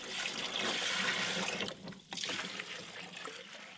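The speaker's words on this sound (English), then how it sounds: "Put the pump down in the bottom of the tub and then up through and into the egg chamber in the top." Water from a pump trickling into the egg chamber of a shad tank built from a tub, a continuous close splashing dribble with a brief dip midway.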